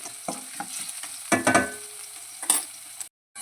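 Finely chopped ginger sizzles in a hot pan while rava upma is being made, with a quiet steady fry broken by a few sharp scrapes of stirring up close before the sound cuts out at the end.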